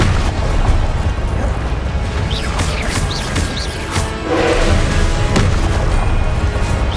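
Fiery Confringo blast spells erupt in a Hogwarts Legacy battle, a steady roar of booming explosions and crackling bursts layered over continuous loud combat noise and music.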